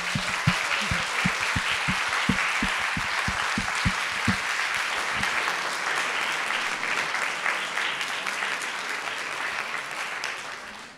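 An audience at an academic history conference gives a sustained round of applause, clapping dense and even for about ten seconds. Several sharp, close claps ring out near the start, and the sound tapers off at the very end.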